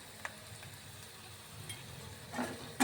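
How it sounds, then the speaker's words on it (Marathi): Onion frying in a pan gives a faint, steady sizzle, with a few light clinks of a utensil stirring against the pan and no talking. "मी कांदा भाजत आहे"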